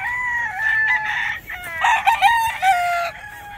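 A young Kanawayan-breed rooster crows loudly and close by, one long drawn-out crow lasting about three seconds with a wavering, breaking end, heard alone without talk.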